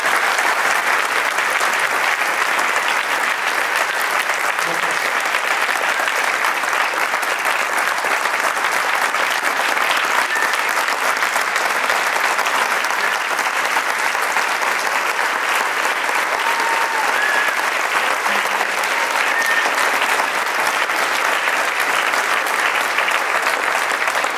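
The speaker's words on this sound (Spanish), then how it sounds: "que le den un aplauso" Steady, sustained applause from a large church congregation fills the whole stretch, dense and even with no pauses.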